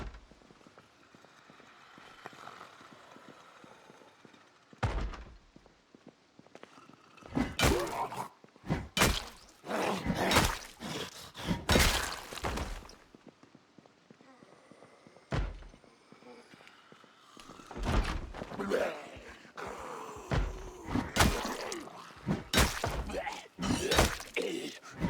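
Zombies in Project Zomboid pound on doors in loud, irregular bursts of heavy thuds, with clusters of impacts separated by quieter stretches of ambient game noise.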